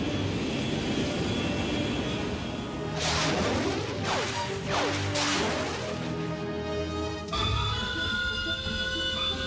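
A cartoon aircraft named Victory 1 takes off from a main hangar, with loud whooshing roars and crashing, swooshing effects over a steady background score, ending in a sharp cut to a brighter musical passage.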